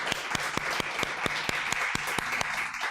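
Church congregation applauding during a sermon, a steady wash of many hands with sharp rhythmic claps standing out at regular intervals, moderately close and continuous throughout.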